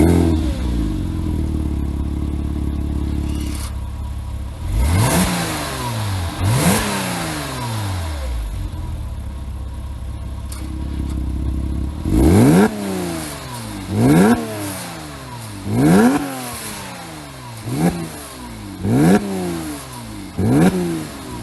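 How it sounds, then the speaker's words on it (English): A Porsche Cayman with a center-exit exhaust starts and idles, then gives a series of about seven sharp throttle blips. Each rev rises quickly and drops back, loud and close, with no voices. "And this exhaust, center cut, it's beautiful, beautiful. It sounds throaty."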